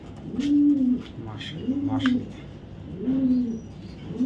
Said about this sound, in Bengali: খুবই চমৎকার একটা মাদি কবুতর